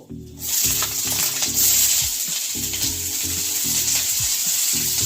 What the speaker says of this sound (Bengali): এলাচ, লবঙ্গ, গোলমরিচ আর জয়িত্রী আমি এটা দিয়ে একটু ভেজে নেব।